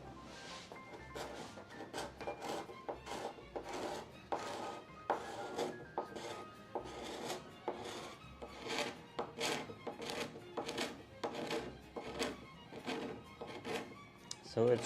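A gooseneck scraper rasps across an old wooden door being restored, in a quick series of short scraping strokes with a steady rhythm, close and fairly quiet.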